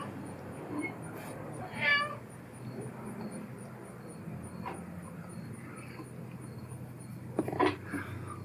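A cat meows in a workshop where an antique Craftsman jointer is being restored, a couple of short meows standing out against a steady background hum, with faint clicks and no talking.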